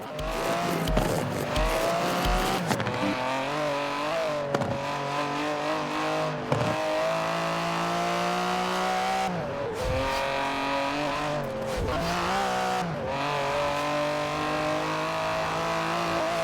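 An Aston Martin in the racing game Forza Horizon 4 roars and revs through repeated gear changes, with tire squeal and skidding, loud and continuous and broken by short dips between shifts.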